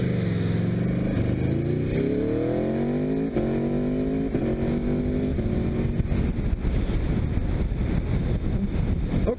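A 2018 Aprilia RSV4 RF sport motorcycle under way, its engine note climbing through several upshifts in rising sweeps, loud and close over steady wind rush, with no talking.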